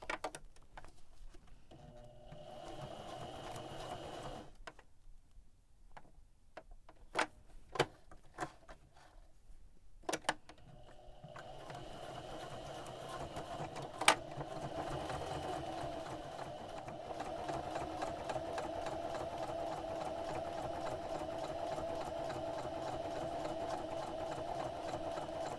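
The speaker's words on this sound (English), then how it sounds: "Got our doubled over hem, and I'm just going to go ahead and sew it." A sewing machine stitching a doubled-over hem on a custom cover for an Olympian Wave 3 heater, starting with a short run, pausing amid a few clicks and handling noises, then humming in a long continuous run, fairly quiet and close.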